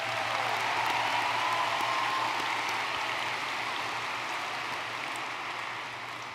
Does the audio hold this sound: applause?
yes